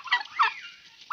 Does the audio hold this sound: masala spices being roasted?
no